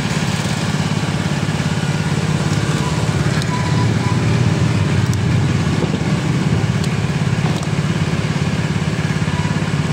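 Constant road traffic heard from a tricycle in the Philippines: a dense, unbroken rumble of idling and revving motorcycle and car engines, close and loud throughout.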